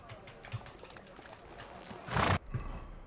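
Horse hooves clip-clop in Kingdom Come: Deliverance 2 as a horse fitted with a plated bridle, Norman saddle and woman's horseshoes sets off, a few soft steps followed by a brief louder burst of movement.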